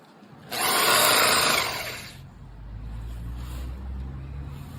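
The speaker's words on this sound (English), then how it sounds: "I got this bulb auger from Lowe's, and you just extend it to your drill" An electric drill fitted with a bulb auger spins into garden soil with a loud whirring, gritty burst for about two seconds, then drops to a lower steady rumble as it keeps grinding.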